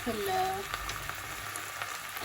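Washed, unsoaked rice is stir-fried in a pan for stuffed calamari, giving a steady, moderate sizzle with faint scraping as it is turned, and a brief voice-like tone at the start.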